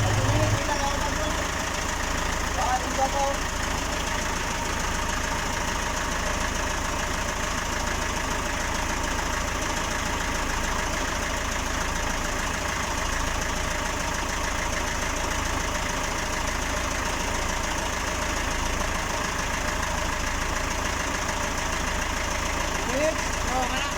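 A freshly overhauled engine whose oil pump is not working idles steadily with a continuous close mechanical drone and a faint repetitive knock, running unbroken throughout.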